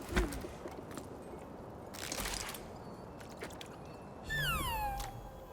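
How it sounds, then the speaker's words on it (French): Cat in the climbing game Jusant giving a single drawn-out, falling meow near the end, after soft scuffs and crunching steps. "Miaou."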